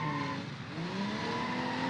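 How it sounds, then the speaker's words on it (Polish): Car drifting and skidding in BeamNG.drive, a damaged vehicle sliding with a steady engine drone and long tire-squeal tones, loud and continuous throughout. "Czemu to auto tak driftuje, widzowie?"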